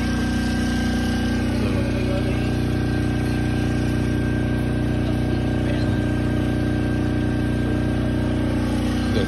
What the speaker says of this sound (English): We got a generator running up there